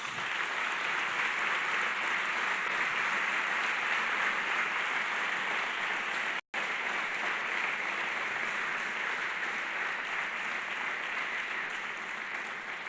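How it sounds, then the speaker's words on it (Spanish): Loud, sustained applause from a church congregation at a Spanish-language worship gathering, filling the whole stretch with dense clapping broken only by one instant dropout midway. "¿Por qué no le da un fuerte aplauso a Jesús?"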